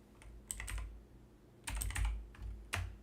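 Keys clatter on a computer keyboard in short bursts of quick clicks separated by brief pauses, close and crisp with soft low thumps under the strokes.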